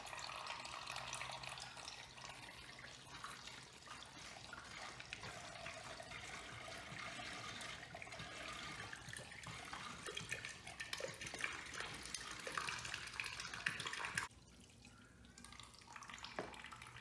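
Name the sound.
coolant draining from Kawasaki Vulcan 750 motorcycle drain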